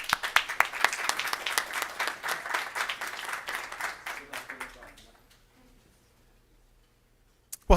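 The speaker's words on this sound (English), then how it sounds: "So round of applause." Audience applause at a photography and optics stage event, dense clapping that swells and holds for about five seconds before fading into near silence, with a brief sharp noise at the end.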